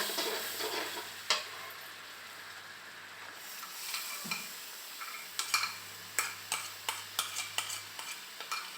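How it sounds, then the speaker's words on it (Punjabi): Cream is stirred in a kadhai while it thickens into rabri, a low simmering hiss under a run of sharp ladle taps and scrapes against the metal that quicken toward the end, close up with no talking. "ਹੁਣ ਇਹਨਾਂ ਆਪਾਂ ਇਦਾਂ ਹਲਾਉਂਦੇ ਰਵਾਂਗੇ ਜਦ ਤੱਕ ਕਿ ਚੰਗੀ ਤਰ੍ਹਾਂ ਗਾੜੀ ਨਹੀਂ ਹੋ ਜਾਂਦੀ"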